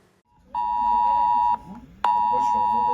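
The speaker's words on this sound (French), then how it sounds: "Une sonnerie reconnaissable et une notification automatique avec un message d'alerte envoyé sur tous les téléphones portables" A loud, steady phone emergency alert tone sounds twice, each blast about a second long with a short gap between, over faint background voices.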